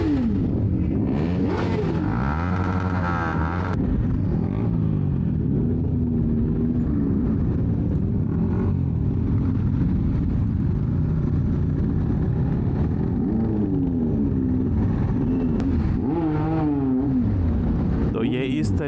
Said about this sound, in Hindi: सब सुपर बाइक्स का ग्रुप है ये